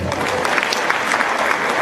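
Brief, dense burst of audience clapping from delegates at a national party conference, loud and continuous throughout.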